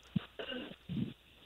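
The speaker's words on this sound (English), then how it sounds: "little playoff cough there." A man coughing and clearing his throat during a phone interview, a few short harsh bursts close to the microphone, separated by brief gaps.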